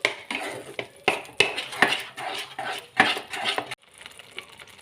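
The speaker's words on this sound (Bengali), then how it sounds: "ভালো করে মিশিয়ে নিচ্ছি।" A utensil clinks and scrapes around a pan as whisked, spiced yogurt is mixed into a Bengali mushroom masala, with repeated sharp metallic knocks and wet stirring, fairly quiet and close, ending in a softer lull.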